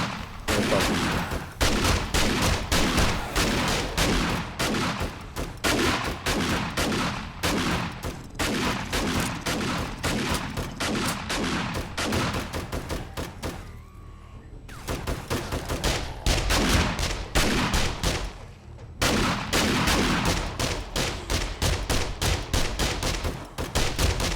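Rapid bursts of gunfire in the zombie survival video game 7 Days to Die, loud and sustained with dense repeated shots and a few brief pauses, no voices.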